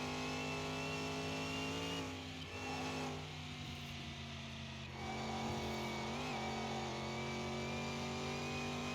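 A race car engine in Car Mechanic Simulator 2021 drones steadily at high revs through a lap, a loud sustained whine with slight pitch shifts as it eases off and climbs again, with no talk over it.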